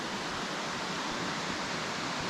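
Curtain Falls, a waterfall in Litchfield National Park, heard as a steady, even rush of falling water, a constant hiss with no breaks, fairly soft.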